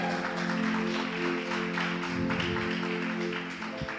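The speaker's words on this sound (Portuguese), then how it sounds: "Aplauda o Senhor em nome de Jesus." Congregation clapping during a church service, a soft wash of applause blended with sustained instrumental tones beneath, steady and moderately loud throughout.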